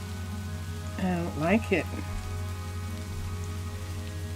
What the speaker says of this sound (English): It's not going to stop raining for 3 hours.